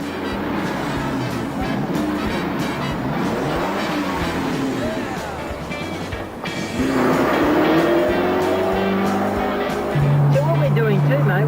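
Car engine revving hard while driving, a loud sustained roar that climbs in pitch through the gears, with someone talking over it throughout.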